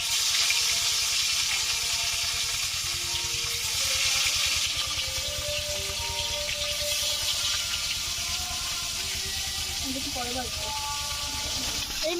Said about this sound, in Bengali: এই মাছগুলো ভেজে নিচ্ছি।